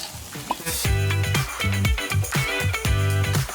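Onion sautés in olive oil for a creamy chicken pastel, bursts of sizzling broken by clanking utensil strikes and a low tonal hum, close and fairly loud with no voices.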